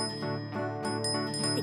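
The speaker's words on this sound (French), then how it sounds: "grâce à la cloche porte-bonheur" A small lucky bell on a toy train rings in bright, repeated tinkling strikes, close and clear, with sustained ringing tones between hits.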